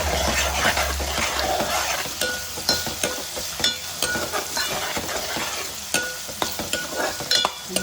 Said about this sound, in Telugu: ఉల్లిపాయ పేస్ట్ వేగిందేమో చూద్దామండి.